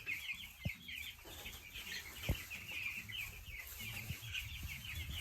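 Broiler chickens in a chicken house cluck and chatter steadily at close range, with a few sharp knocks and thumps breaking through the busy flock noise.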